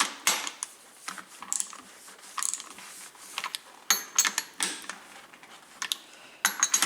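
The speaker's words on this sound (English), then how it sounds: "So I just got to finish tightening it up with my ratchet here." A hand ratchet tightening bolts on a Dodge Dakota leveling kit, giving quick bursts of close, crisp clicking in short irregular runs separated by brief pauses, fairly quiet, with no talking.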